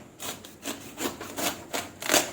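A knife saws through a watermelon into round slices in a series of about five rhythmic rasping strokes, close and fairly quiet, with no talking.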